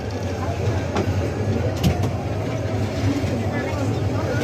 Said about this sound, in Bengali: একসাথে 2 ট্রেন ছাড়ছে